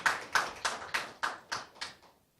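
A few slow, evenly spaced hand claps, about eight in a row, ring out as an audience welcomes a presenter at a social welfare symposium; the claps are faint and fade out at the end.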